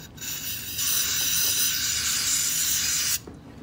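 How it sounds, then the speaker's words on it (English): Air compressor nozzle blowing a steady, loud hiss of air to clean an R/C car motor, starting abruptly and cutting off after about two and a half seconds. "Just grab the air compressor and give it another blow."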